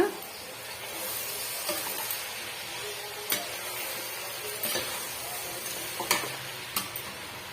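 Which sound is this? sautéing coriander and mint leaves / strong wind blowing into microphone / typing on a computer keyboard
sautéing coriander and mint leaves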